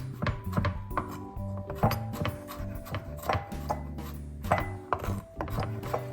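Peeled garlic cloves and ginger are roughly chopped with a knife on a wooden board, a steady run of close, crisp knocks at an uneven rhythm, with no talking.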